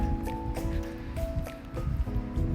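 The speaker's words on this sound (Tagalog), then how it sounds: "Medyo lumalakas po ang ulan." Rain growing heavier outdoors by a park, a steady dense wash of patter and drips filling the whole clip, close and fairly loud, with faint tonal hum layered beneath.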